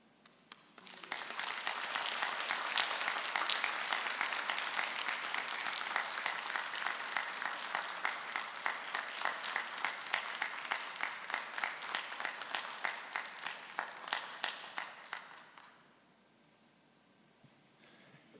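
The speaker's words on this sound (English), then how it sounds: "give Sheila a big round of applause" An audience claps for about fourteen seconds, a broad steady patter with individual claps standing out, then it stops abruptly and leaves quiet room tone.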